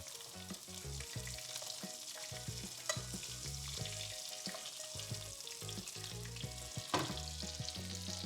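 Steak fries in butter in a pan, giving a close, steady crackling sizzle with scattered louder spits and pops throughout.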